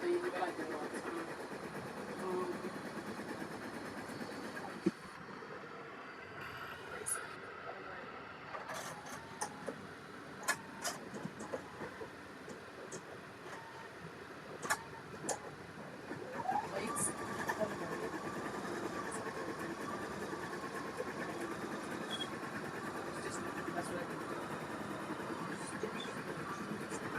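An embroidery machine stitches a circle, giving a steady mechanical whir with rhythmic needle ticks and a few sharper clicks, while a person talks over it.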